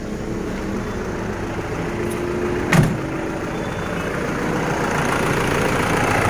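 A Mahindra Bolero engine idles smoothly and steadily after a P0203 injector fault repair, a continuous low rumble close by with one brief louder knock partway through.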